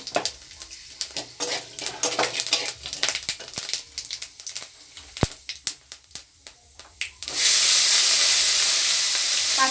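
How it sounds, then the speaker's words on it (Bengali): Panch phoron spices dropped into hot oil while cooking black kochu greens, first a run of crackling pops and spatters, then a loud, steady sizzle as the pan fills. "আমি এখন পাঁচফোড়ন দিয়ে দিলাম।"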